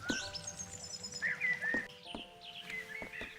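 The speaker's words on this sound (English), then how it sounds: "Calm down, birds." Birds chirp in the ambience of The Sexy Brutale video game, with several overlapping tweets and short whistled calls repeating over a low background hum, moderately loud and without speech.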